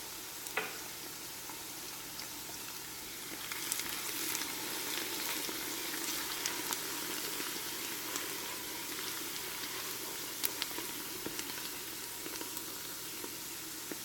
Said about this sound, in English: I'm going to let this simmer